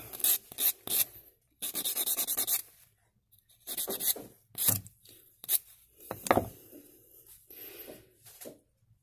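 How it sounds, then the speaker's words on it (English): A bone banjo nut being sanded on 120 grit sandpaper to round its edges, heard as close, rough scratchy strokes that come in short bursts separated by pauses, with no talking. "And this is 120 grit sandpaper."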